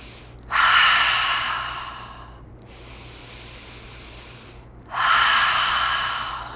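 Two deep, slow breaths during a yoga class, each a long airy inhale-exhale rush close to the microphone, separated by a few seconds of quiet.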